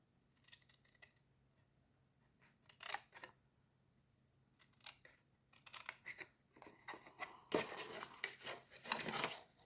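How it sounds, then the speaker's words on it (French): Scissors cutting through paper card for a handmade card, quiet snipping strokes that come in separate bursts at first, then closer and more rapid cuts, with no speech. "je vais le faire directement au ciseau"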